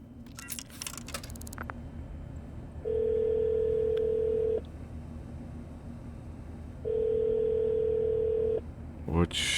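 Two long steady ringback tones in Shadows of Doubt mark a phone call that rings on with no answer, each about two seconds, separated by quiet gaps, with a brief clatter at the start and end.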